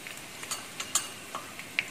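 Ginger, onion and beetroot frying in oil, giving a faint, soft sizzle with a string of light taps and scrapes from stirring, close by and without speech.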